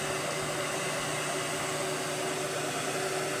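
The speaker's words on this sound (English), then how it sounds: "I heat it up a little bit with a hair dryer or a electric" A hair dryer or electric heat gun blows a steady, even roar while warming a hose, close and constant throughout with no talking.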